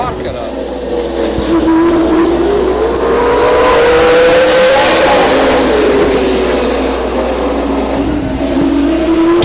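Race cars circle the Stockton 99 Speedway oval in single file, a loud, continuous engine drone with a rising and falling pitch as the pack moves through the turn, and a broad roar underneath throughout.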